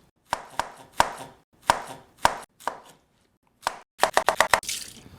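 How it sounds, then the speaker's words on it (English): A knife chops pineapple into half-inch chunks on a cutting board, giving a series of sharp, close thuds in uneven bursts, ending in a quick run of rapid chops. "Usually cut them in about 1/2-inch chunks."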